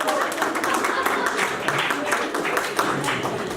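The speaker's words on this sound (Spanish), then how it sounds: "Si van a aplaudir al Señor, pueden hacerlo." A church congregation at Iglesia Bíblica Emmanuel in Arequipa applauds, a steady wash of many hands clapping together, with voices mixed in.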